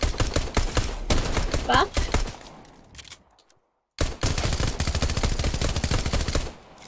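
Rapid close gunfire in a prison escape video game, long automatic bursts that stop for about a second before resuming just as densely, with a voice speaking briefly.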